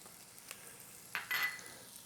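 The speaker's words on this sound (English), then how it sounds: "I got a half a medium onion, diced up, that we're gonna go in here and get a little saute on" Half a medium onion, diced, begins to sauté in butter in a pan, a faint low sizzle with a couple of brief louder crackles as it goes in and is moved about.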